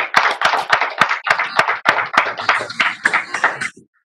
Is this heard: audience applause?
yes